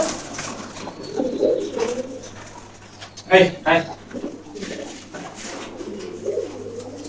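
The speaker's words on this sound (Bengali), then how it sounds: "আমি তো এখন কবুতরের ডাকটা আপনাদের দেখালামই" Pigeons in a loft give soft, low, repeated cooing calls, with a louder rolling burst near the middle, against a steady hum and some voices nearby.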